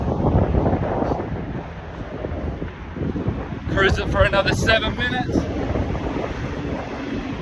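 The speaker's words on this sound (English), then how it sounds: "A little bit windy up here." Wind buffets the microphone with a steady low rush throughout, while a person speaks briefly partway through.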